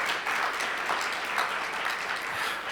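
A breakfast audience at the 2023 USHCC Legislative Summit applauds the Hispanic chambers, a brief, even wash of many hands clapping, moderately quiet and without speech.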